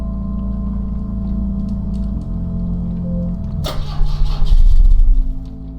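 Car engine cranking without catching in the video game The Drifter, a steady low mechanical churn that swells louder near the end, with no voices over it.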